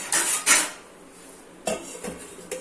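A metal lid clanks down over a bowl of chapati dough: two bright clattering knocks close together, a quiet pause, then a few lighter taps and rattles as it settles, close by.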